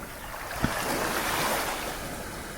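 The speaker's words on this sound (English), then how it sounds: "with the waves lapping the shoreline" Waves lap the shoreline of a beach in Barbados as a steady broadband wash, with breezy wind rumble and one brief thump partway through; no voices.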